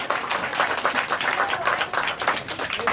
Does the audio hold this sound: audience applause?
yes